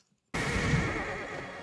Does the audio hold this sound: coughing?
no